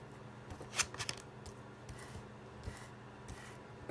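Playing cards being shuffled up close, with a series of soft riffling bursts and flicks at an irregular rhythm, fairly quiet, with no talk.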